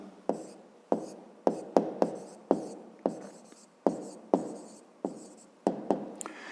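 Pen on paper makes quick, crisp tapping strokes in irregular bursts, close and fairly quiet, with no talking.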